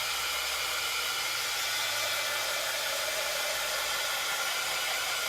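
A hair dryer blows steadily to dry paint on a wooden sign, a constant close whooshing hiss with no talking.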